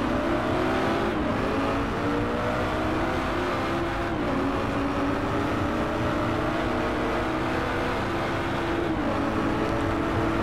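Race car engine in Driveclub VR droning steadily at high revs, with a few gear shifts dipping and climbing the pitch, loud and constant from start to finish.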